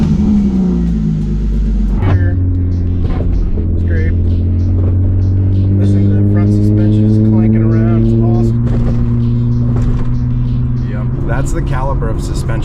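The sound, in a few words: BMW E36 suspension rubbing while driving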